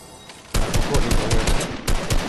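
Fortnite gunfire in a squad match: after a quiet half second, a loud rapid burst of automatic shots rattles close by, pauses briefly, then resumes with more shots.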